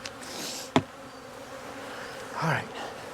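Honey bees buzzing around an opened hive at an apiary, a soft close hum with a brief sharp knock partway through and a louder buzzing pass near the end.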